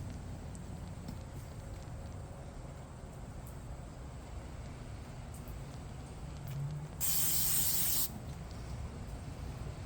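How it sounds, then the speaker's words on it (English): Oil misted from a spray bottle over a stuffed pork butt turning on a rotisserie skewer, one steady hiss lasting about a second against quiet background hum. "I'm going to hit it all sides with a little bit of oil"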